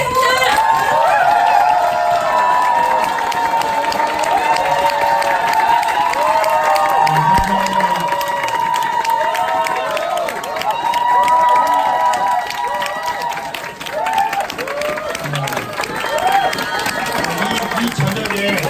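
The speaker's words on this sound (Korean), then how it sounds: "큰 박수 부탁드리겠습니다." At a Korean business group meeting, a crowd applauds and cheers to welcome a company president onto the stage. Loud, continuous clapping and cheering play under music and voices throughout.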